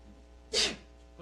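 A single sharp sneeze bursts out during a board meeting in a room, one brief loud noisy blast followed by quiet, with faint speech afterward.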